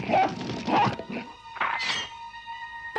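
Several dogs in an animated scene yip, bark and whimper in quick bursts, close and fairly loud, with a few high whining cries between the barks.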